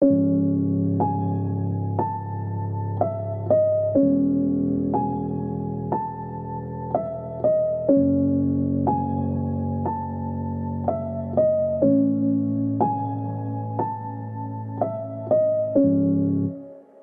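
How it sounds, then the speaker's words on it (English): A simple, unhurried piano melody plays alone over sustained low chords in an FL Studio beat, repeating the same short phrase in steady cycles at an even, moderate volume. "And in context, the pianos sound like this."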